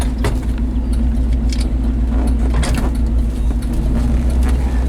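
A 1968 Ford F250 pickup with a 360 V8, four-speed manual and new exhaust rumbles steadily on the road, a deep continuous engine drone with occasional rattles and clunks, loud and close.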